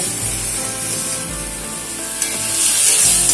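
Taro greens with mustard-chilli paste, turmeric and salt frying in a pan, a steady close sizzle with faint stirring scrapes throughout, and no voices.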